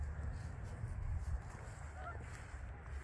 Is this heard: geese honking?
yes